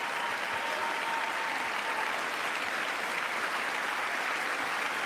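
Steady, even applause from a large audience fills a chamber during a State of the Union address, sustained and moderately distant with no pauses.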